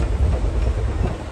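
A steady low rumble and rattle fills a moving passenger train cabin on the Secunderabad to Santragachi route, continuous and close with faint rhythmic clatter underneath.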